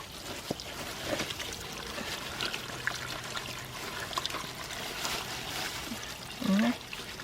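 Water pours and trickles steadily while freshly picked garden radishes are rinsed, a soft continuous splashing with small knocks and one brief louder burst near the end.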